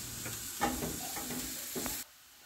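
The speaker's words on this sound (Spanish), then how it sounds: "nuestros chiles aquí los estoy volteando para que se hacen por todos los lados y queden bien asaditos" Poblano chiles roast and get turned on a hot surface, a soft close sizzle broken by a few light scraping and knocking sounds of handling, cutting off abruptly near the end.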